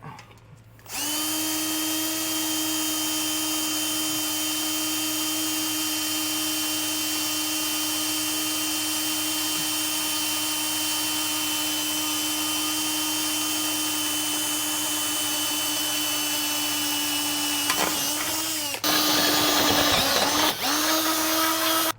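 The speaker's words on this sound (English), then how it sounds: "we'll just get both of these sides drilled out" A power drill bores holes for a Curt custom base plate on a 2021 Jeep Wrangler, a loud, steady high-pitched whine running almost continuously before a brief stutter and a harsher final burst.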